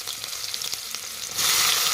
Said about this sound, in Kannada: ಉದ್ದಾಗಿ ಉಳ್ಳಾಗಡ್ಡಿ ಹೆಚ್ಕೊಂಡೀನಿ, ಹಾಕ್ಬಿಡೋಣ್ರಿ. ಎಣ್ಣೆ ಕಾದಿತ್ತು ನಮ್ಗೆ